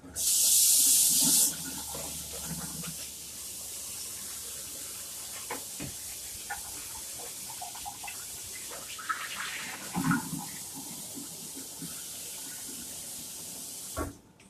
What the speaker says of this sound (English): I'm going to grab some water so I can rinse off the transfer.